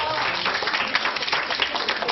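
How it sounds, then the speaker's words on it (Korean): Dense, sustained clapping from a group of young participants at a Korean youth program session, a steady close wash of many hands with a little chatter underneath. "박수 한번 주세요"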